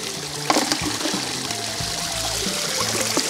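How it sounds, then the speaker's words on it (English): A small powered sluice runs water steadily, a continuous trickling pour with splashing over a steady mechanical hum, close and fairly loud throughout. "It's got a little power sluice he's running."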